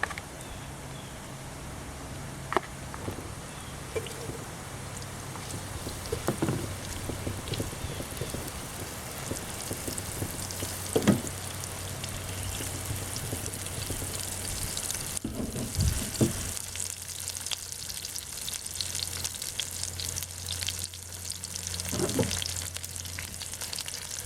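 Shrimp frying in a little oil in a pan for Chinese shrimp with black bean sauce: a steady, close sizzle with scattered sharp clicks and scrapes of stirring, no talking.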